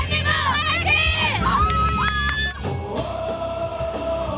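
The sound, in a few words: Red Devils supporters cheering in Gwanghwamun street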